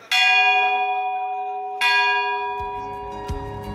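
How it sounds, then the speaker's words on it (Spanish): A bell at the Cacasihuán lookout above Lake Atitlán in Guatemala is struck twice, each loud, ringing strike decaying slowly, with faint low rumbling handling noise near the end. "avisábamos nuestra llegada con esta campana"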